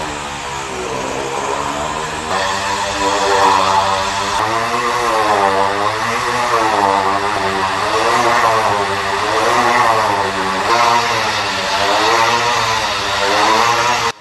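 Motorcycles in a circus stunt show, a loud sustained engine drone with rising and falling revs as the bikes circle, no talk over it.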